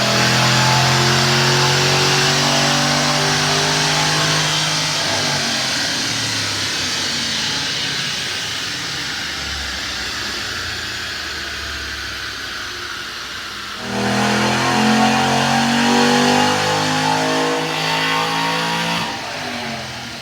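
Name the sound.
2005-2010 3-valve 4.6L Mustang engine revving on dyno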